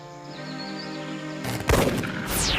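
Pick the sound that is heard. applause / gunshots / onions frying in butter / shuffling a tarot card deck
gunshots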